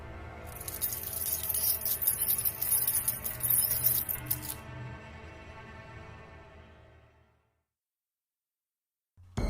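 Car keys jangle and clink near and clear for about four seconds, bright metallic rattling over a low dark drone that lingers and fades out, followed by silence and a brief low thump at the end.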